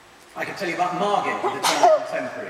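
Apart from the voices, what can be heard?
audience member sneezing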